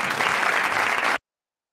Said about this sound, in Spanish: Un aplauso a José Ángel